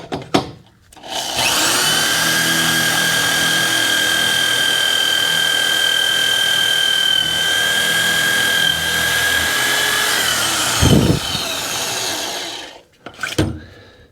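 A power drill bores steadily through oiled metal, a loud sustained whine with a high tonal edge running for about ten seconds, then stopping, followed by a couple of short clunks.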